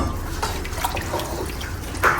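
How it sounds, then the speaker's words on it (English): Water pours into a soup pot while making okra soup, a steady splashing stream with a brief louder gush near the end, heard alone without talk. "So I'll add water now."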